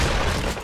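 A shotgun firing in the Fortnite video game, heard as one loud, booming blast with a dense, broad roar that fills the short moment and fades slightly at the end.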